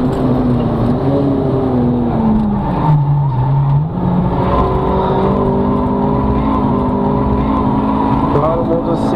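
A race car's engine drones loudly down the start-finish straight, pitch wavering and dipping through gear changes, with a voice talking over the steady roar.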